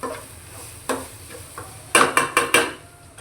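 Country rooster meat tipped into a hot pan of cooked onions in a village kitchen, giving a few soft clatters and then a cluster of louder sizzling stirs and scrapes close by.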